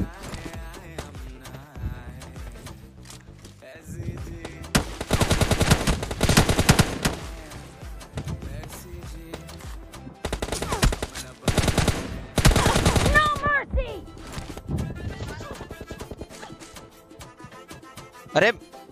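Rapid bursts of automatic gunfire from a one-on-one team deathmatch in a mobile shooter game, loud volleys separated by quieter gaps, with someone talking over the fight.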